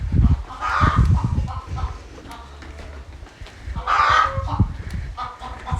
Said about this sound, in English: Even the chickens are eating the corn.